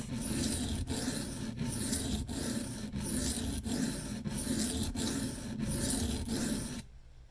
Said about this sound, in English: it's feeling like 1095 on the stones